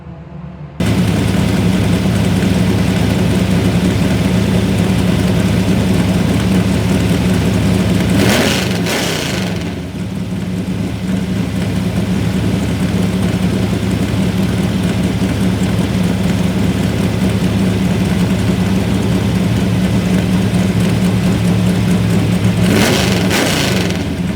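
A Corvette or Datsun race car engine at Lime Rock catches and settles into a loud, steady run, with two sharp rev blips, one near the middle and one at the end, all without any talk.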